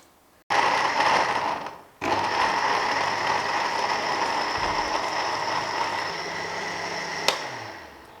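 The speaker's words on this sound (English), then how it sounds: "So, now we will put it into the blender and blend it." Blender whirring as it purees boiled carrot and tomato soup, starting after a short silence, pausing briefly, then running loud and steady for several seconds before a clunk and a winding down.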